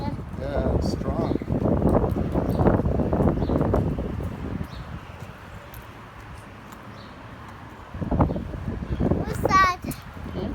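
Strong gusts on a windy day buffet the microphone outdoors with a broad, roaring rumble that swells, eases and then returns, while people talk throughout.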